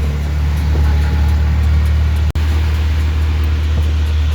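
A loud, steady engine drone and road rumble fill the cabin of a moving auto-rickshaw, interrupted by one brief cut near the middle.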